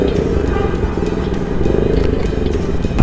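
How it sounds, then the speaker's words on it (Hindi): A motorcycle engine runs steadily with a low, continuous rumble and some mechanical clatter, close and loud throughout. "अब बाइक चल रही है ना बिल्कुल मक्खन"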